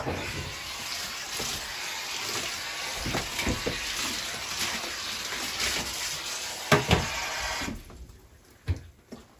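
Running water from a tap rinses a carbon heliochrome photographic print, a steady close splashing rush that stops near the end, followed by a few light knocks and drips.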